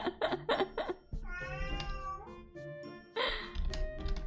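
A cat meows several times up close during a livestream, short calls followed by a longer drawn-out plaintive wail, with no talking.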